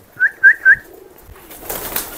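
Pigeons give three short, clear coos in a quick even row, close by, followed by faint rustling background noise.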